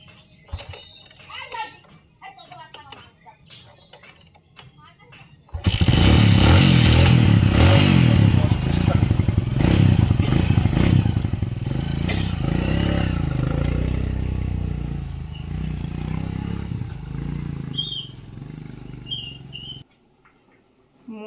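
After a few seconds of people talking, someone tries to start a motorcycle engine that fails to start, producing a loud, close, rough clattering roar that runs for about fourteen seconds and then cuts off abruptly.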